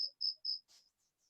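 Crickets chirp in short, faint bursts, a few quick high pulses in a row and then fading away, with nothing else heard around them.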